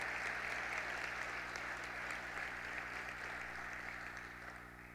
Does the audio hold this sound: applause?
yes